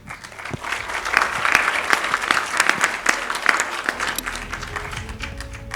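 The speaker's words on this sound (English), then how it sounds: "give big applause to our speaker" A crowd at an energy policy forum session applauds a speaker, with dense, steady clapping that rises quickly and carries on at even strength before thinning near the end.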